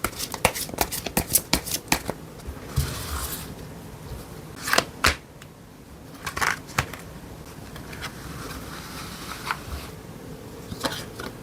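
A deck of tarot cards is shuffled by hand, with bursts of quick riffling flutters and soft slaps that come in uneven clusters, up close and without speech.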